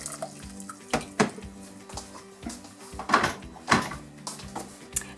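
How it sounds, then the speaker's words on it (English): A kitchen sink tap runs, filling a saucepan with cold water, with steady splashing and a few clunks and knocks of the pan and drawers. "You can either go to the sink and fill it up with some cold water"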